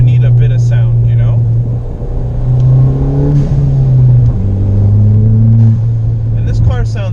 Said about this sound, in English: muffler delete was the first thing I wanted to do to this car, because I always need sound